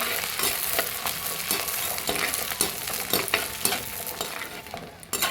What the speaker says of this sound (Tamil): கூடவே பச்சை மிளகா சின்ன வெங்காயம் இது எல்லாத்தையும் போட்டு நல்லா வதக்கிக்கலாம்